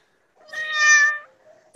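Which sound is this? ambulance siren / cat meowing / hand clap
cat meowing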